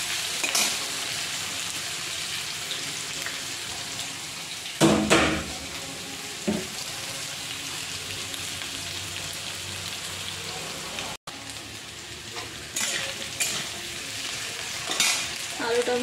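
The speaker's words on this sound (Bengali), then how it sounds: "আলুটা ভাজা ভাজা হচ্ছে" Potatoes and onion fry in a pan with a steady hiss and sizzle, and occasional louder bursts of stirring scrape through the frying.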